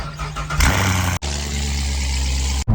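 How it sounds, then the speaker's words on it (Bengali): A car engine cold-starting: a cranking whirr catches into a loud, rough, steady idle with a low throbbing hum, close to the microphone, cut briefly by two abrupt dropouts. "আহা কোল্ড স্টার্টের আওয়াজটা একবার শোনো"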